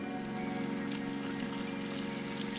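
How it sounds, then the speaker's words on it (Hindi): Heavy stormy rain, a dense, steady patter of drops hitting surfaces, close and continuous without pause for a few seconds. "वहां तेज तूफानी बारिश होना शुरू हो जाती है"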